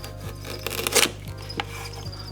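Food being sliced with a knife for feeding crickets, with several crisp cutting and scraping strokes close up, the strongest near the middle, alone and without talk.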